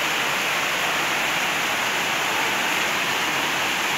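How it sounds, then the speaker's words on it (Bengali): A heavy rain downpour at a home falls as an unbroken, dense hiss of water, loud and constant throughout with no pauses or voices. "মুষলধারে বৃষ্টি হচ্ছে"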